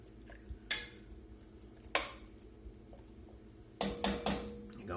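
A metal spoon clanks against the sides of a pot of Louisiana chicken stew, a handful of sharp, separate knocks and scrapes over a quiet low hum.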